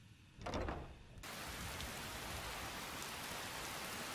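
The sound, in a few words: rain in video game Skyrim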